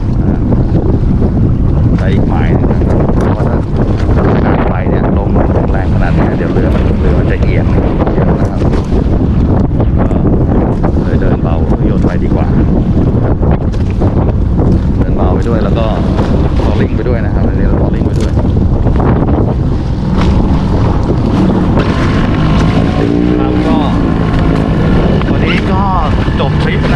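A boat engine idles at sea off Hat Phayun during coastal micro-jigging, producing a low steady drone. Heavy wind buffets the microphone throughout, and someone talks intermittently over it.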